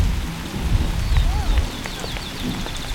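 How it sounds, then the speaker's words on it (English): Rain falls steadily on a garden, a continuous close patter of drops with heavier splashes, birds chirping faintly in the background. "We're getting our rain."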